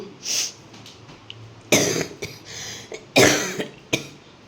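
Several sharp, close coughs in separate bursts, a couple of them harsh and loud, with quiet pauses between and no talking.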